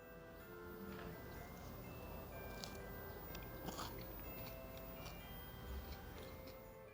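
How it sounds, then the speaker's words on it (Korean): Someone bites into and chews a Nature Valley protein bar with nuts, giving soft crunches and clicks close to the microphone against a steady background hum. "먼저 네이처밸리 프로틴바를 먹어볼게요."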